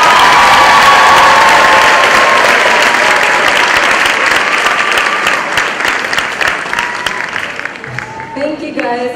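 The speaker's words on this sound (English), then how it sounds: "Let's give another round of applause." A graduation audience at a high school ceremony bursts into loud sustained applause with some cheering, the clapping thinning and fading toward the end as a voice begins speaking.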